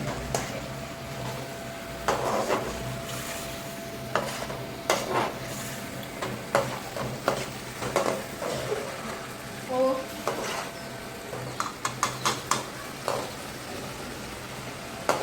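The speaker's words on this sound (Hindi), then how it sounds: "मगर इनको थोड़ा मिक्स करना बहुत जरूरी है" Spoon scrapes and clanks in a pan while sour spiced potatoes (khatte aloo) are mixed, with a soft sizzle beneath and intermittent knocks against the metal, interspersed with people talking.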